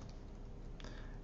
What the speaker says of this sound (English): I'm going to start this thing up by typing in